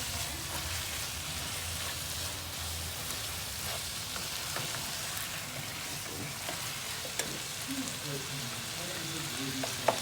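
Chicken bhuna with chili powder and green chilies sizzles and fries in a pan, a continuous crackle with occasional scraping stirs and a couple of sharper clinks near the end.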